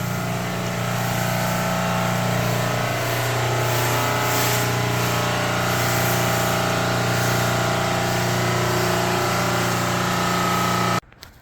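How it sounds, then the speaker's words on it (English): A power washer fitted with a 15-degree tip sprays water steadily and loudly for the whole stretch under a constant motor drone, cutting off abruptly at the very end. "We use the 15-degree tip. That's what we've always used on power washers."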